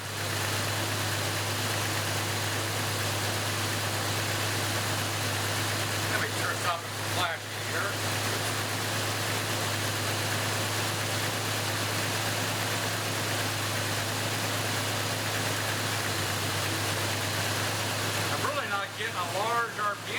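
A car engine idles at about 1,000 RPM during a cylinder power balance test, with one spark plug wire disconnected: a loud, steady hum that drops briefly twice, with no talk heard.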